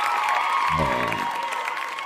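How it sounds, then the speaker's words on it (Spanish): Studio audience claps for a guest on a talk show about earthquake preparedness, a short burst of applause with a brief voice-like sound partway through. "Quiero un aplauso"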